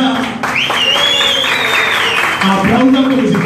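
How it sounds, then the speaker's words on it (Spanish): In a lively bar, a crowd claps for a singer, loud and continuous, while someone shouts over it and a whistle or squealing voice rises above the noise. "Aplauso para la licenciada."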